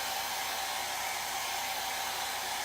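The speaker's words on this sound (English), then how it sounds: "So I'm just using a little bit of a hair dryer." A hair dryer blows steadily on chalk-transfer craft paint on a pumpkin, a constant airy whoosh at close range, with no talk.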